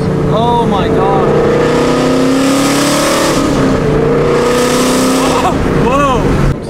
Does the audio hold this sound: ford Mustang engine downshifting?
yes